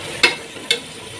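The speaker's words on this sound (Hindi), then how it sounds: "जी 5 मिनट हो गए हैं हमें घिया को भूनते हुए।" Bottle gourd (lauki) fries with spices in a pan, a soft steady sizzle broken by two quick scraping strokes of a spatula, close by, no voices.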